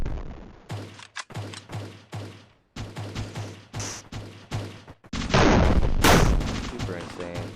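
Rapid gunfire in a competitive 2v2 video game shooter match, with clusters of sharp shots and a dense, louder burst near the end, under a caster's fast commentary.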